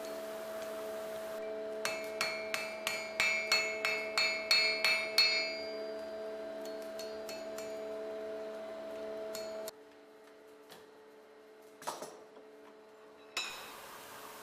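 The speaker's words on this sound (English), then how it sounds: "I've finished the bend on the face of the anvil" A steel flint striker handle is hammered on an anvil, with a quick burst of about a dozen ringing metallic blows over a steady hum, then a few scattered taps and clinks.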